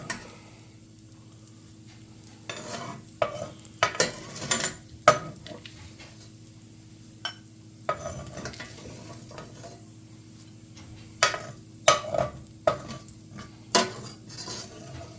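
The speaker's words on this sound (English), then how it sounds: "our bacon is nice and crispy, and we're going to spoon this out" Crispy bacon being spooned out of a frying pan: a faint background sizzle broken by clusters of sharp metallic spoon scrapes and clinks against the pan, close by, with no voices.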